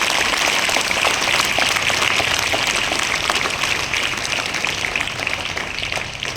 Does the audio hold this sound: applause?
yes